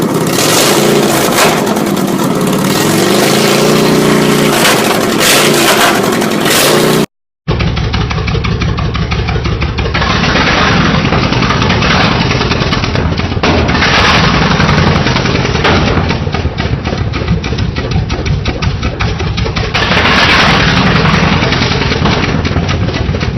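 A 2013 Snapper riding lawn tractor with an exhaust delete kit and dual exhaust runs loud and raspy, idling with rough revs, briefly cutting out before continuing close and harsh.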